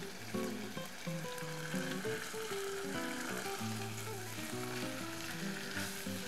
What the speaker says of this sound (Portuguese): Agora nós estamos só no processo de refogar ela dos dois lados.